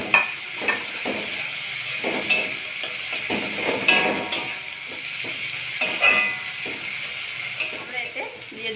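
Lightly browned onion and chopped tomato fry in hot oil for fish curry, giving a close, steady sizzle broken by frequent stirring scrapes and occasional clinks of a spatula against the pan.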